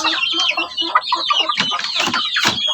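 Two-month-old native chicks in a backyard coop, a cluster of soft clucks and peeps overlapping steadily throughout, fairly close and with no talking.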